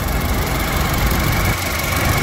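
Engine of a 2008 Toyota Innova with a 2.0 automatic idles smoothly and steadily, a close, even low hum with no knocks or irregular sounds.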